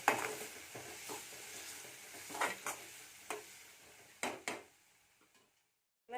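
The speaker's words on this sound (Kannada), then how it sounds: "ಎಲ್ಲ ಮಸಾಲೆ ಹಾಕ್ಯಂದಿವೆಲ್ಲ ಈ ಎಣ್ಣೆ ಬಿಟ್ಕೊಂಡ ಹುರ್ಕೋಬೇಕಿದು." Spices frying in oil for avarekai palya are stirred in a pan, with scattered scraping strokes and faint sizzling, fairly quiet and close, tapering off near the end, with no talking.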